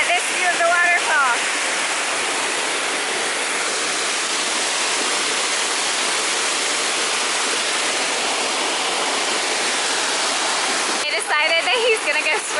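A Cambodian waterfall, seen from the bottom of muddy, slippery steps, roars as a steady broadband rush that fills the whole clip, loud and close, with brief voices at the start and the end.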